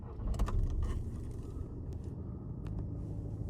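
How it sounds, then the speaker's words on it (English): A 2012 VW Tiguan 2.0 TDI diesel engine cranks and catches, with a short burst of low rumble that settles into a steady, fairly quiet idle, and a few light clicks and rattles sound on top. "And we'll start her up."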